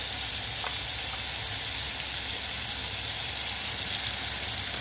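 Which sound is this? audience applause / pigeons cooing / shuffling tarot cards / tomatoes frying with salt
tomatoes frying with salt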